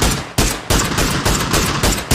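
Rapid gunfire in a first-person shooter game, about seven loud sharp reports in a quick, fairly even rhythm, close and punchy with nothing else over them.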